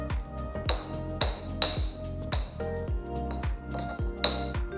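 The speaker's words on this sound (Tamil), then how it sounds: "முதல்ல ஒரு சின்ன உரல்ல 15 பல்லு பூண்டு சேர்த்து அதை கூட 3 டீஸ்பூன் காஷ்மீரி மிளகாய் தூள் சேர்த்து நல்லா அரைச்சி எடுத்துக்கோங்க" Garlic cloves and Kashmiri chili powder pounded in a small stone mortar make a steady run of close, sharp knocks, each with a brief ringing clink, repeating at an even rhythm with no talk.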